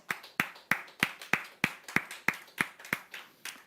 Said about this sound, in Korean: 우리 주님께 박수하십시다.